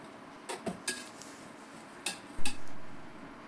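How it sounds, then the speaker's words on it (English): A greasy year-old oil can and its lid are scrubbed with a sponge scrubber and dish soap, giving faint soft rubbing with a few light metallic clinks and knocks in a quiet kitchen. "Now simply I'm using a sponge scrubber and washing it with a dishwash liquid."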